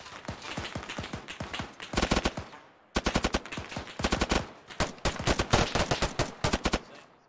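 Assault rifle fire in a military shooter game, close and loud, with rapid bursts and sustained automatic strings of shots separated by brief pauses.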